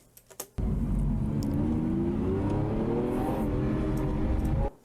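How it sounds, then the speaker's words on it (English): A Lamborghini Aventador engine fires up and revs loudly, holding a strong steady roar with a slowly rising pitch before cutting off abruptly. "Now let's have a listen to the Aventador."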